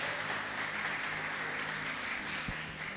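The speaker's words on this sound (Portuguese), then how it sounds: "E uma salva de palmas para o nosso Senhor e Salvador Jesus Cristo" A church congregation claps together in a dense, steady wash of applause at moderate distance, sustained throughout without voices on top.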